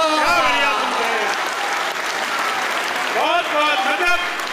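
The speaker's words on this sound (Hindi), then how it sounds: "आप लोग जोरदार तालियां बजाइए" Loud applause fills the hall at an Urdu poetry mushaira, steady clapping that runs throughout while voices call out over it at the start and again near the end.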